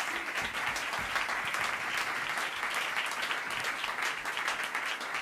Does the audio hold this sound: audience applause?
yes